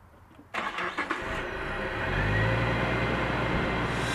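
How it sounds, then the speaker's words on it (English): A supercharged Jeep fitted with a Viper coil conversion cranks briefly and then catches, settling into a steady, loud running engine rumble close by with no talk. "The only thing we got to do is fire up the Jeep and hope it starts."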